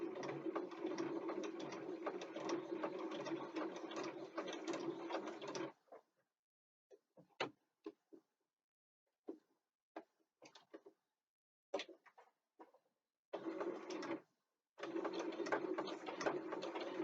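A sewing machine stitches down a backpack piece in long, steady whirring runs, broken by a stretch of scattered clicks and small mechanical ticks before the stitching resumes, close and fairly quiet.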